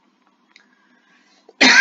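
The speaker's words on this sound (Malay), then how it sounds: "Hai, batuk pula." A single sharp cough bursts out near the end after near silence, close and fairly loud.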